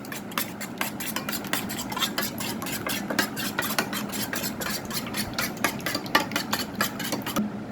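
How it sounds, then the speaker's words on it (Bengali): Two eggs whisked briskly in a bowl, steady fast rhythmic clinks and swishes close to the microphone, continuing without pause for several seconds with no voices. "ডিম দুটো আমি ভালো করে ফেটিয়ে নেব"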